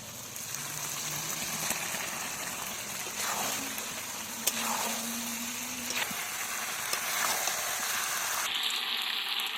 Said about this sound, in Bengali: এই যে এবার আমি আলুটা দিয়ে দেবো, আলু দিয়ে মাংসটা আর একটু কষাবো